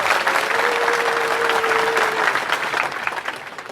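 An audience at a Cak Nun gathering claps for Mas Wildo, a loud, dense round of applause with a brief held tone riding over it early on, tapering off toward the end.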